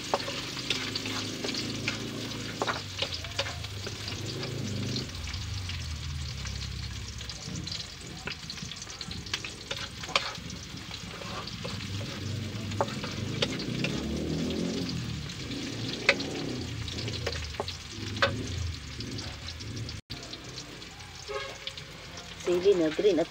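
Garlic, ginger and onion frying in a pan for adobong balut, a steady crackling sizzle with occasional stirring clatter, close and moderately loud throughout, with a little background speech.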